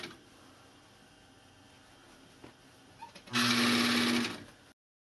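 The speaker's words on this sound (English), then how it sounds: "I'm going to sew all the way around the inside." A sewing machine stitches around the inside of a flat cap with a 3/8 seam allowance, a single steady run of about a second after quiet handling noises, close and fairly loud.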